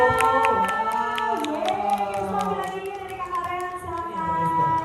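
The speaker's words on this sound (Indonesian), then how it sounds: "tepuk tangan untuk Kristo" An audience claps for Kristo during a quiz at the grand opening of BxSea Bintaro, an underwater performance venue. Scattered, steady clapping runs under tonal music and background hum, fairly close.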